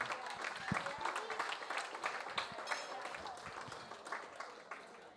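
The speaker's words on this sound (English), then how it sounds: "and Chunhee, and of course the Dunbar House, a big round of applause for organising this wonderful celebration." Applause from guests at a wedding reception at Dunbar House, a dense wash of clapping that holds steadily for several seconds at moderate distance, with a few voices mixed in.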